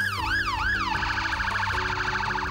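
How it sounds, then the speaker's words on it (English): An ambulance siren sounds nearby and loud, sweeping up and down in a slow wail for two cycles before switching to a fast, warbling yelp that holds steady over a low engine drone. "Ethiopia's first ambulance."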